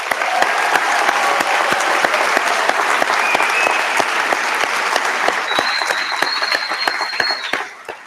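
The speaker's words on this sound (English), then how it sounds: "Let's have another round of applause." Sustained applause from a large crowd at a university convocation ceremony, a steady dense roar of clapping with sharper individual claps that rings on for several seconds before fading at the end.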